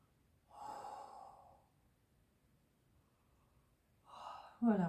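A person yawning, two long breathy exhalations heard close and quiet, the second rising into a voiced sigh at the end.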